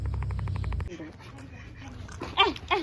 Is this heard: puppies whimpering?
yes